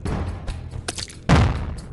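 A bomb explodes in a video game with a loud booming burst about two thirds of the way through, after several smaller thumps and bangs, with no speech.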